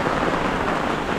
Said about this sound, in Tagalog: mahina pa yung ulan at hindi po masyadong malakas yung hangin